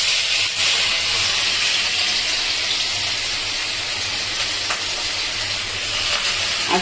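Onion sizzling in hot oil in a wok, a steady close hiss and crackle of frying that runs unbroken with a faint low hum beneath.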